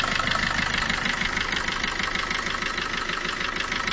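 A car engine idles close by, a steady, even mechanical rumble with a regular pulsing rhythm and no talking.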